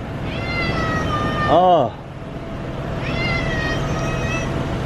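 A cat meows loudly and close by, with a rising and falling cry and a second, fainter meow later, over street background noise, with a brief spoken word from a man.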